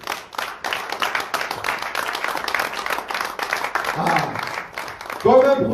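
A church congregation claps and applauds together, a dense rhythmic patter of many hands, with voices rising over it near the end.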